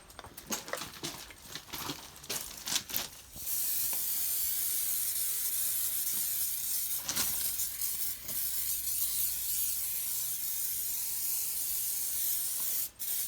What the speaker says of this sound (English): we're going to hold the can 15 centimetres away from the tyre and apply it to the wheels.